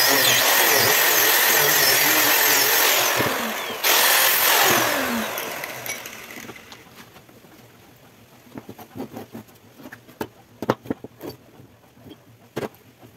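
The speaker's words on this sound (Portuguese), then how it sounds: "Esse corte aqui eu vou fazer com uma serra mármore da Bosch." A Bosch marble saw cuts into a forage harvester blade, a loud, harsh whining grind that runs for about six seconds and then stops, followed by scattered faint knocks and taps as the pieces are handled.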